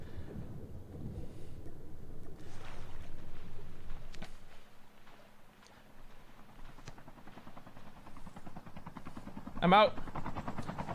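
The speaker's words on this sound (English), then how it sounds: "Wait, there's a chopper coming." A helicopter approaches in COD Mobile, a steady low rotor rumble that swells and fades across the scene beneath a player's talking, with a brief sharp burst near the end.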